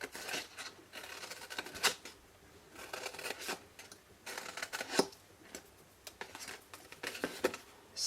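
Scissors snip through cardstock squares for a handmade Stampin' Up! picnic box, with a quick run of close, crisp cutting strokes and paper rustles in an uneven rhythm and no voices.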